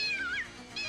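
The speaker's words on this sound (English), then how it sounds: "Agatha's cat gets loose" A cat meows twice in a scene from an Olsen twins kids' movie. The first meow is drawn out and wavering, and a shorter one follows after a brief pause, both close and clear.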